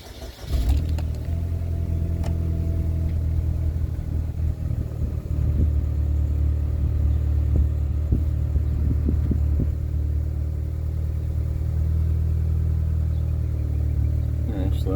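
A 2007 Chevy HHR engine, unused for a couple of months, turns over and settles into a steady, low rumbling idle that continues close by throughout, with no voices.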